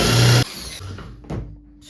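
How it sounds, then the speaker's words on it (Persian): Power drill boring a small hole with a narrow bit at a pencil mark: a loud, close whine for about half a second cuts off, followed by a brief second burst of drill noise. "یه سوراخ میزنی با مته کوچیکتر رو همون قسمتی که علامت زده بودن با مداد"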